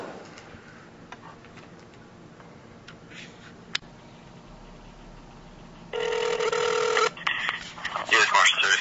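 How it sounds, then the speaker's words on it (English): An answering machine prompt ends, then a loud electronic tone sounds from the telephone, followed by a brief burst of dialing-like beeps over a faint line hiss. "At the sound of the tone, please leave your name."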